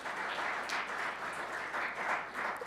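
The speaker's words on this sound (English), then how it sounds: "let's have another round of applause for our poet laureate, Ms. Chastity Gunn." An audience applauds a city poet laureate at a Black History event in Elgin, a steady wash of many hands clapping at moderate distance, sustained for the whole stretch without any talk.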